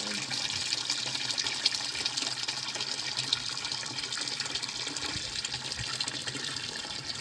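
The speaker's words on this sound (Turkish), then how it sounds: "Çeşmenin suyunda duyuyorsunuz. Ne kadar güzel akıyor." Water pours steadily from an outdoor fountain in a highland meadow, making a continuous close gushing splash with no breaks.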